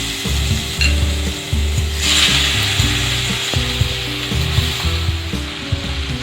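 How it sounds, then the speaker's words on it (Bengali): Raw green jackfruit frying in the oil left from frying a fish head, with a steady sizzle and wooden scraping and stirring sounds, plus a low hum underneath, close and continuous. "মাছের মুড়ো ভাজার তেলের মধ্যে আমি কাঁঠালের এঁচোড়গুলোকে ভেজে নেব।"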